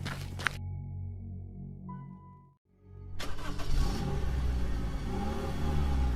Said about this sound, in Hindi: रिचर्ड भागते हुए अपनी गाड़ी में वापस गया।